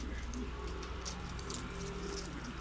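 A stray grey, smoky-coloured crested pigeon coos on a rooftop terrace, a soft, steady low murmur that continues throughout with no voices.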